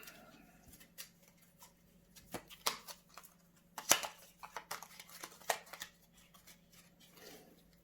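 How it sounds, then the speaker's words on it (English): A deck of cards for the family card game Colour MY Kritters is shuffled on a table, with soft irregular flicks and taps growing into a denser close-up flurry before trailing off, with no voices. "So let's shuffle."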